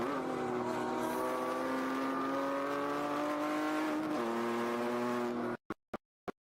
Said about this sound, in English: You see that straight six, the beautiful noise.